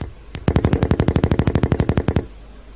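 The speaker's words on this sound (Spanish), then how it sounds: "¿Qué me estás disparando? ¿Una ametralladora o algo?" Machine gun fire in the Battlefield mobile video game: one shot, then a rapid, evenly spaced burst of about twenty loud, close rounds that stops abruptly.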